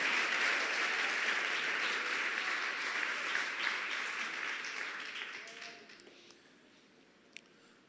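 A church congregation at a Sunday celebration service applauds in a dense, even wash that slowly fades to near silence, leaving a few isolated claps and taps at the end.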